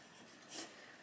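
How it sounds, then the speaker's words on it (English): Brief pen-on-paper scratch as a short note is written by hand beside a weekly planner, a soft swelling stroke of under a second, quiet and close. "I'll just write myself a note"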